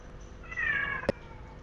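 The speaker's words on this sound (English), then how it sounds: "My cat is noisy." A single faint, drawn-out meow from a house cat, quiet and slightly distant, followed by a short sharp click, over a low background hum.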